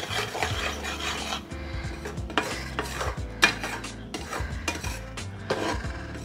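A spoon scrapes and stirs milk reducing in a pan for mohan thal over a low flame, with repeated close rasping strokes and light metallic clinks in an uneven rhythm, alone with no talk.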